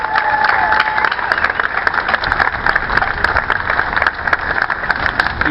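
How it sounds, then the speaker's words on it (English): Outdoor crowd applauding an Illinois Army National Guard aviation battalion at a state bicentennial ceremony, loud sustained clapping with a faint tone at the start and no voices. "Let's give them a round of applause."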